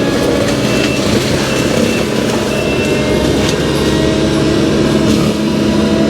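Skid steer with a heavy mulching head weighing about 2,800 pounds, running in the woods, a loud continuous engine roar with dense grinding noise and no pauses.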